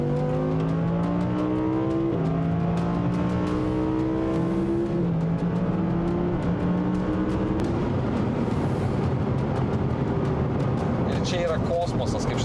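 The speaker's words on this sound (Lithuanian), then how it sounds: "kada nors gyvenime išgirsta kaukiantį V10 atmosferinio variklio garsą" An Audi naturally aspirated V10 in Dynamic mode revs hard through several gears, its strong engine note climbing and stepping at each shift, with a voice talking over it throughout.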